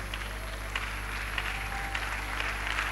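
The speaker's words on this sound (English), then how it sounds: "With a round of applause." A standing audience at a university distinguished speaker lecture in Ghana gives a round of applause, a soft, steady patter of clapping heard faintly over a constant low electrical hum, with no talking.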